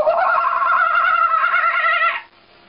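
A woman vocally imitates a kookaburra call, a loud continuous run of bright, warbling cackling notes held for about two seconds before cutting off, close to the listener with no other sounds.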